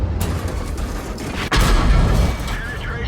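A BZ tank in a video game fires a high-explosive shell: one sharp crack in the middle, then a heavy low rumble over dense ongoing battle noise.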